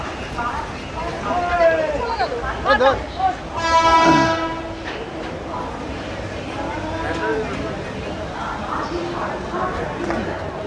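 A Kolkata Circular Railway train pulls into Dum Dum station with rumbling wheels and a loud horn blast midway, while a person talks over the noise.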